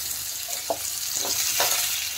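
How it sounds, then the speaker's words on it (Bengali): Chopped potatoes stirred and lightly fried in an oiled pan beside ginger, a continuous sizzle broken by a few distinct spatula scrapes and clinks, close and steady, with no talking. "এখন আলুটা একটু নেড়ে দেবো, নেড়ে একটু হালকা ভেজে নিতে হবে।"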